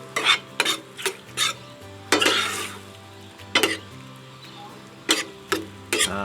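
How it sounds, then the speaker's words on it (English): Spoon stirring beurre manié into a pan of venison stroganoff, giving repeated close scraping strokes against the pot over a steady low sizzle, with one longer smeared stir in the middle. "So mix the butter in, or mix the beurre manier in."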